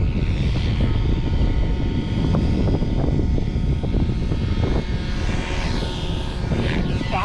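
A Goblin 500 RC helicopter flying overhead, a continuous loud rotor and motor whine with slight shifts in pitch as it maneuvers, no talk.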